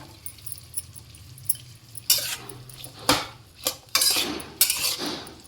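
Chopped beans go into a pan of sabudana pulao, with sharp metallic clinks and scrapes of a spoon against the pan coming in uneven bursts over a quiet kitchen hum.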